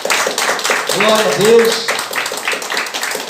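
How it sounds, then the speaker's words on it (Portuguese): A church congregation claps steadily and briskly, a rhythmic wash of hands filling the room while a voice calls out over it. "Dê uma salva de palmas bem forte para Jesus"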